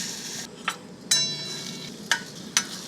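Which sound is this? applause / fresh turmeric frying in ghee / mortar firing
fresh turmeric frying in ghee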